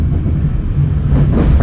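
The Erlangga passenger train rumbles past at close range, heard from a local train near Karawang station, a loud low continuous roar with droning rumble and faint rhythmic wheel clatter, no voices.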